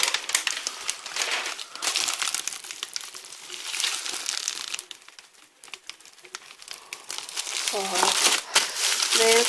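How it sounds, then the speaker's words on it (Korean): Close, continuous crinkling of a plastic wrapper goes on for several seconds, rising and falling, with a brief voice near the end. "비닐 소리밖에 안 들리실 거예요"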